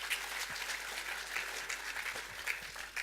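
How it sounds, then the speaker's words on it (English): A gathered audience claps steadily at a moderate distance, a continuous even patter of applause with no voices over it. "Big clap to Brother Jose Luis."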